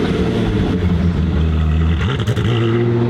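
A Koenigsegg Jesko hypercar revs hard while spinning across a grass lawn, its loud engine note rising and falling in pitch as the throttle is worked, with no voices.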